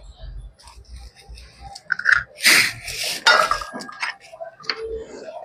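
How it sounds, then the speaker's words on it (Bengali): An egg is cracked into a bowl of chicken being marinated: a few sharp taps and clicks of shell against the bowl's rim, close and fairly loud, followed by small wet kitchen noises with no talking. "ডিমটা ফাটিয়ে দিয়ে দিচ্ছি"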